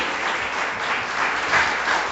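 Church congregation applauding during a worship service, a brief burst of dense, steady clapping filling the room.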